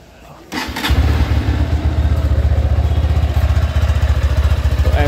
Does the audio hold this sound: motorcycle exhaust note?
yes